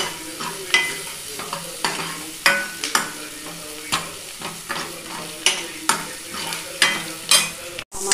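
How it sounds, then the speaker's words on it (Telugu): Onions and green chillies frying in a pan with spices, under a steady sizzle broken by regular sharp scrapes and clacks of a stirring spoon, close and loud, with no voices. "ఉల్లిపాయలు, పచ్చిమిరపకాయలు వేసుకుని ఎర్రగా వేసుకోవాలండి"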